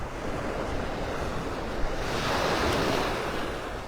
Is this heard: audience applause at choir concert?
no